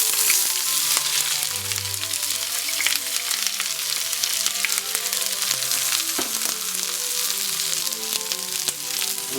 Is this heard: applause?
no